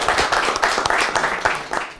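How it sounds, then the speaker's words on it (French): An audience at a French-language sales and persuasion talk breaks into applause, brisk clapping from a smaller group with distinct individual claps audible in a lively, fairly close burst. "On va applaudir pour elle."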